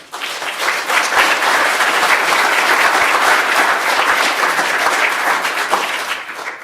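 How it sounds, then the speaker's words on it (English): Loud, sustained applause from an audience at a conference room dedication ceremony, many hands clapping steadily for several seconds before tapering off at the end, with no voices over it. "I want to applaud her right now for doing it."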